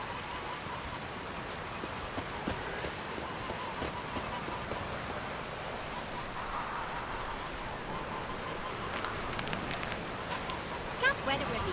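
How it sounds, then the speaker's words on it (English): Steady rainfall in The Witcher 3, a continuous hiss of drops on surfaces with occasional sharper patters and a brief louder tap near the end. "Oh, raining again."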